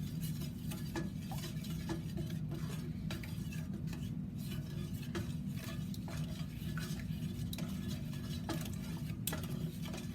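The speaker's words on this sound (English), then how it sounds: "I'm going to put the eggs in here, and then I'm going to kind of like scramble them" Eggs being scrambled in a hot oiled pan for vegetable fried rice, a steady close scraping and stirring with soft sizzling underneath and occasional clicks of a utensil against the pan, continuous throughout.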